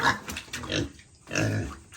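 Hungry farm pigs give a few close, moderate grunts in short bursts, with a brief quiet pause between them.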